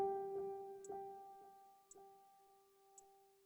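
Feedback from the Muse breath meditation app when breathing misses the guide: a quiet steady hum with faint sparse ticks about once a second, alone and without any talking.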